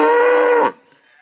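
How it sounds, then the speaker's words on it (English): A full Jersey dairy cow on a homestead lets out a single loud, close, sustained moo that ends abruptly, leaving faint background sound. "Daisy is a full Jersey, which is a dairy cow"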